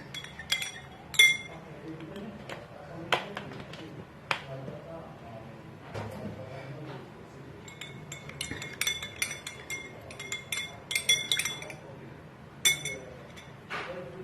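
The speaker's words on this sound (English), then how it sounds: "You're going to add in 2 teaspoons of raw honey. And stir it." A spoon stirs raw honey into ginger tea in a glass, clinking sharply against the sides in irregular bursts. The taps are close and crisp over a quiet room.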